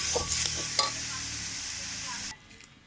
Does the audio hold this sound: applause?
no